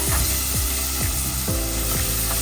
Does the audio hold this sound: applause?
no